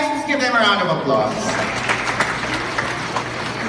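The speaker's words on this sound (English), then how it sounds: "Let's give them a round of applause" A crowd claps for graduating students at Bethel Academy's 41st graduation; the clapping follows a brief stretch of voices and continues as a steady wash under faint talk.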